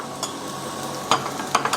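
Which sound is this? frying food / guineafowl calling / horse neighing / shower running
frying food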